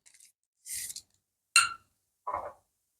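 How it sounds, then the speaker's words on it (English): Scissors snip through a drinking straw: three short, crisp cuts with a light scrape, spaced apart and close by in a quiet room. "let me cut the straw in half."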